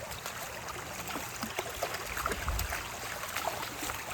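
Creek water flows over rocks during a woodland creek walk, a soft continuous trickling and babbling with scattered splashes and a low rumble, fairly close, with no voices.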